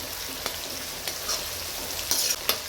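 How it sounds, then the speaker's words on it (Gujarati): Pigeon peas and green peas fry in hot oil with ginger, chilli and garlic for a rustic undhiyu, a steady close sizzle broken by a few sharp stirring scrapes and spatters. "આ રીતે આપણે તુવેર અને વટાણા પહેલાં તેલમાં નાખી દઈએ તો ચડી જાય છે સરસ."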